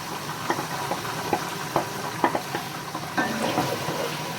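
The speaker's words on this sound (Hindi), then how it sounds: "सुनहरा ब्राउन होने तक भूनेंगे प्याज को" Onions sizzle and crackle in a hot pan with ginger and garlic while browning for chicken biryani, with steady frying hiss and occasional sharper pops and stirring scrapes, close and fairly loud.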